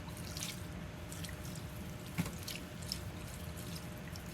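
Faint splashing and dripping as scoops of water mixed with BTI are poured onto paper and food in a worm bag bin, a few soft wet pours and drips over a quiet background.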